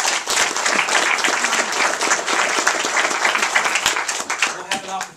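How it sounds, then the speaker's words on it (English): An audience claps for a patient and family at a medical talk, dense sustained applause throughout, loud and close, tapering slightly at the end. "I wanted to first give them a round of applause for coming today"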